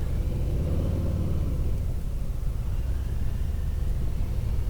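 A 2020 Harley-Davidson Softail engine runs with a steady, low rumbling idle heard up close, continuous throughout with no talking.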